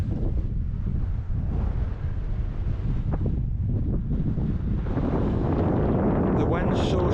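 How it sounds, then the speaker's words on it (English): Strong wind blasts across a hillside at an ancient Scottish hill fort, roaring and buffeting the microphone in a constant low rumble that fills the whole stretch. "The wind's so strong on this side."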